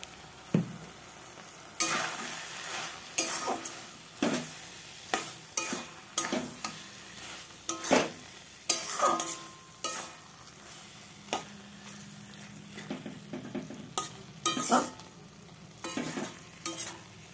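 Mocha chingri, banana flower with prawns, fries in ghee with a continuous sizzle while a spoon stirs and scrapes the pan in frequent uneven strokes, close by with no talking.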